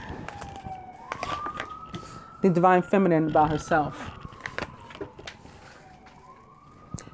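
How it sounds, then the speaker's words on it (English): An emergency vehicle siren wails in a slow, rising and falling glide that runs through the whole stretch, fairly distant, while someone talks over it in the foreground. "On that note, sirens."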